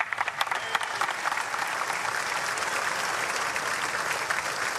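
Sustained applause fills a legislative chamber as the President's Cabinet enters, a dense, steady wash of many hands clapping with no voices on top.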